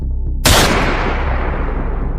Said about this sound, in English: One loud, unmistakable gunshot that echoed through the trees.